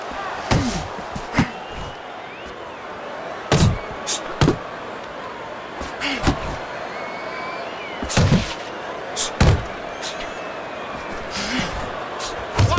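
Boxing punches land in Fight Night Champion during a Tyson Fury versus Deontay Wilder rematch, sharp heavy thuds arriving singly and in quick clusters over a steady crowd murmur while commentators talk.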